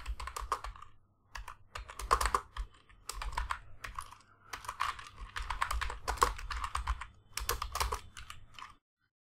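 Close-up typing of Python code on a computer keyboard: quick bursts of clicking keystrokes separated by short pauses, fairly quiet, with no talking.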